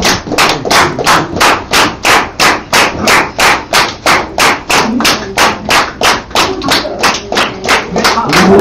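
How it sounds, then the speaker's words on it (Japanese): Claps from an audience at an awards announcement for the BEATS BEST 2017 grand prize, struck in a steady, even rhythm of about three per second. The sharp, uniform beats carry on throughout, with faint voices underneath. "じゃあ大きな拍手お願いします"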